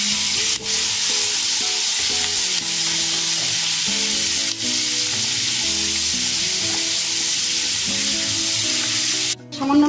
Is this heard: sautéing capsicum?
yes